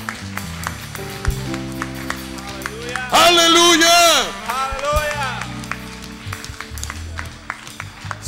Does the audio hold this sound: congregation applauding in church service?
yes